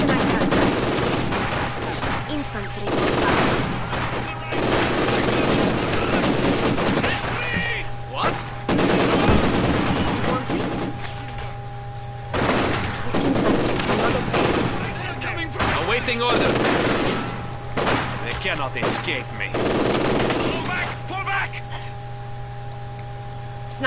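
Heavy machine gun fire in the World War II strategy game Company of Heroes 2, dense bursts of automatic gunfire and explosions sounding continuously and loudly over battle noise and a low steady hum, with occasional speech.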